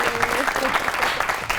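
Studio audience applause welcoming guest Hina Niazi on a television comedy talk show, a steady dense clapping wash throughout with a host's voice running over it.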